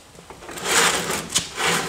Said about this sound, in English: So now I'm going to slide the door back again